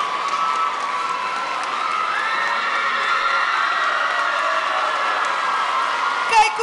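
A crowd at an ATKV high school choir competition cheers and shouts steadily throughout, with excited young voices whooping over broad, continuous noise and a brief louder burst near the end.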